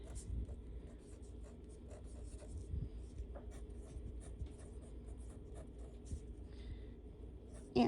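Pen or pencil writing on paper while working out a multiplication word problem, a quiet, close run of soft scratchy strokes and taps with faint low rumble in the background.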